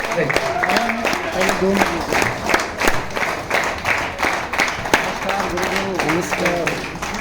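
An audience claps in an excited crowd, rapid sharp hand claps running throughout while several voices talk and call out over them, close and lively.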